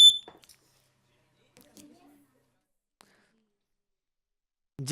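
Quiz show buzzer pressed by a team during a Jogeshwari versus Govandi quiz episode: a short, bright electronic beep at the very start, followed by near silence with faint murmurs and a voice coming in at the end.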